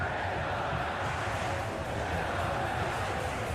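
A stadium crowd in PES 2021 at a Spain versus Cabo Verde World Cup match, a dense, steady roar of many voices that holds level throughout.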